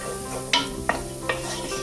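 Onions and spices cook gently in a pan, a steady soft sizzle running throughout with three sharper clinks of a utensil against the pan spaced across the moment.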